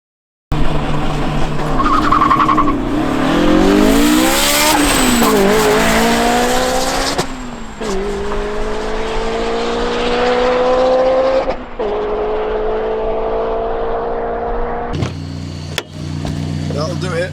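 A supercharged Honda S2000 pulls hard on a quarter-mile run, engine note climbing through several gear changes with loud wind and road noise inside the car, while voices talk over it.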